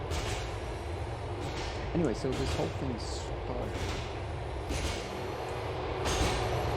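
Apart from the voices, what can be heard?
subway train approaching station in video game GTA IV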